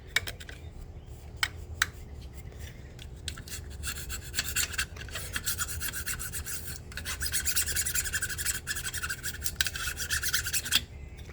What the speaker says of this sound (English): just scrape off all this old nasty stuff